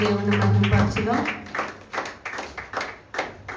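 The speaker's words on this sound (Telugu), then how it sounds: "చప్పట్లు కొట్టి" Clapping at a church testimony gathering, a few rhythmic rounds of hand claps following a voice, moderately close, with speech heard at the start.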